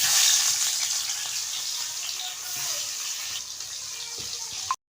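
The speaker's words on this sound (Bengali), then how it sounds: "তেলটা গরম হয়ে গেছে, এবার আমি মাছটা দিয়ে দেব" Tilapia fish frying in hot oil in a kadai over a stove fire, giving a steady bright hiss and sizzle that fades slightly midway and cuts off abruptly near the end, with no talking.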